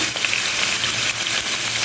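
Pabda fish fry in hot oil, giving a steady, close, crackling sizzle with scattered sharp pops that cuts off abruptly at the end.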